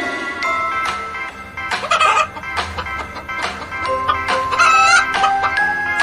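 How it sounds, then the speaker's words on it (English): A hen clucking in a children's alphabet rhyme cartoon, several bursts of clucks and squawky calls at close range, loud and uneven, with no talk over them. "H for hen."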